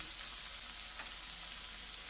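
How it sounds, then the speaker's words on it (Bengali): Chopped onion frying in a pan, a steady close sizzle running unbroken with light crackle and no voices. "এবার পেঁয়াজ কুচিটা দিয়ে দিচ্ছি"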